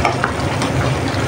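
Arabic marag stew stirred in a pot, with a soft continuous sizzle and scraping swirl of a spoon through the bubbling broth, close and steady throughout.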